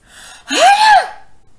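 A voice imitates a big sneeze: a sharp intake of breath rising into a loud, drawn-out vocal burst, close and alone.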